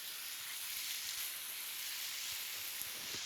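Chicken pieces sizzle in an oiled pan, a steady loud bright hiss of frying that holds evenly throughout, with no voices over it.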